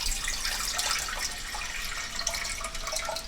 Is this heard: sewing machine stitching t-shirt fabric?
no